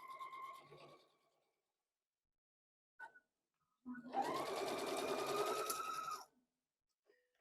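A sewing machine stitches a quilt block in one quick burst of about two seconds, a rapid whirring buzz, close and clear, after a few brief handling clicks.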